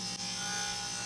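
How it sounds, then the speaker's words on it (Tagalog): Wire brush scrubbing old gasket material off a Hyundai Grand Starex oil pan, a steady close, continuous rasping scrape with a brief dip near the start. "Wina-wire brush na yung ano, para matanggal yung mga lumang gasket."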